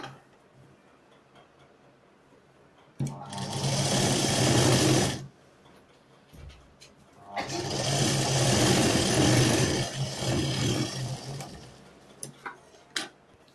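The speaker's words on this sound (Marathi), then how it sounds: "दोन्ही बाजूला शिलाई तशीच मारून घेऊ." A sewing machine runs close and loud while stitching the seams of a salwar, in two long steady bursts of fast needle chatter separated by quiet pauses and a few clicks.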